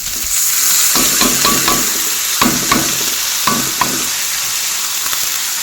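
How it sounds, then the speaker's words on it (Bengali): Dal is poured into a hot pan and stirred, giving a loud continuous sizzle with repeated scraping strokes and a few clicks of the spoon against the pan. "তারপরে এর মধ্যেই দেবো ডাল ঢেলে"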